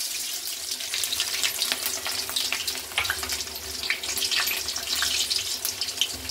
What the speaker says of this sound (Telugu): ఆయిల్ అయితే హీట్ అయిపోయింది. ఆవాలు వేసుకుందామండి.